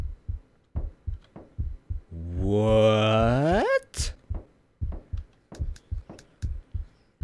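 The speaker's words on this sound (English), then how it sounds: "Why is there only a heartbeat?" In a horror video game, a steady heartbeat thumps in low, regular pulses from start to finish. A drawn-out wailing moan rises over it midway, and a brief spoken word is heard.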